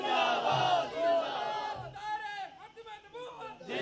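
Crowd at a religious gathering chanting a slogan in unison, loud massed voices rising and falling in rhythmic waves with some chatter between calls.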